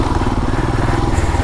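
A Royal Enfield Himalayan motorcycle rides along a snowy, icy farm trail, its engine holding a steady, loud, even drone throughout with a faint rumbling texture.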